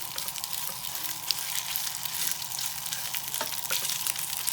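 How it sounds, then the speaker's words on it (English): Pork pieces frying in a very hot pan, giving a loud, dense, continuous sizzle with a few small pops as the meat is stirred and broken apart. "I'm literally just going to fry the pork. Nice and hot"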